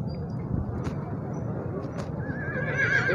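A horse whinnies with a rising, wavering cry near the end, while hooves clop faintly amid the murmur of a busy livestock market and people talking nearby.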